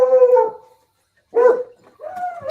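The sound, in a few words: beagles howling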